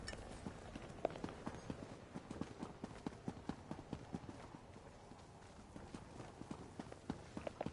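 Steady clip-clop of horse hooves in an Elder Scrolls video game at a brisk walking pace, rhythmic and continuous, moderately close with a faint background bed.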